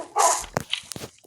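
A puppy gives a short, close burst of yips and whimpering sounds, with a few light pattering steps in between, all within about a second.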